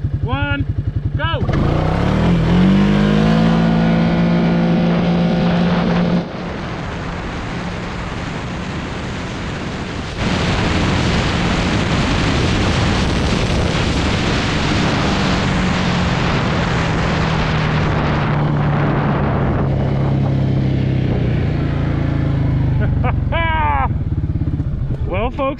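Full-throttle acceleration of a 2023 Yamaha Grizzly 700 SE and a Can-Am Outlander XT700 ATV on an empty road, a loud, close engine roar that climbs in pitch through several gear shifts and holds steady for over twenty seconds.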